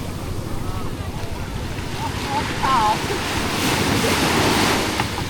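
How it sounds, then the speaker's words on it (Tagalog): Strong ocean waves surge and crash continuously at Masasa Beach, a heavy roaring wash with wind buffeting the microphone throughout. "Lakas ang alon dito."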